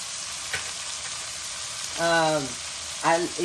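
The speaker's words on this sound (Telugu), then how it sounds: "ముందు మనము ఇంక ఇందులో వేయాల్సిన వేసేద్దాం పచ్చిమిరపకాయలు" Green chilies fry in hot oil for an ice apple (palm fruit) curry, making a continuous close sizzle. Two short vocal sounds break in briefly over it.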